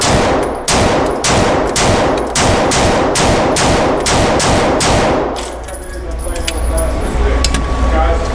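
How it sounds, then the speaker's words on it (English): Pistol fired at an outdoor shooting range, about a dozen loud sharp gunshots in a quick, fairly even rhythm, followed by quieter ambient range noise. "let's put some rounds down range"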